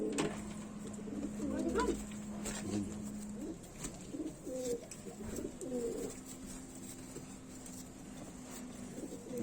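Pigeons of the kaldume and kalpare breeds coo in soft, low, rolling phrases several times, close by, over a hum and background noise.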